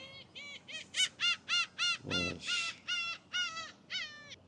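Seagulls over a riverside park along the Han River give a close series of loud, repeated calls, about a dozen evenly spaced harsh cries with a brief noisy burst partway through.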